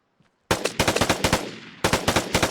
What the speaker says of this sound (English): I'm just kind of burst firing this because obviously